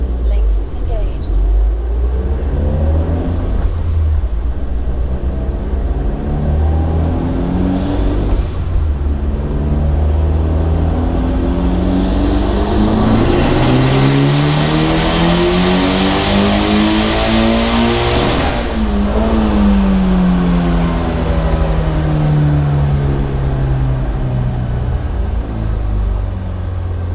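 A turbocharged Mitsubishi Evo engine revs on a dyno during a tuning session, its pitch sweeping steadily upward through a long loud pull, then easing down and climbing again, with a voice speaking over it.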